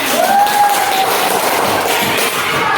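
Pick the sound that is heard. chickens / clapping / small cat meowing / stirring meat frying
clapping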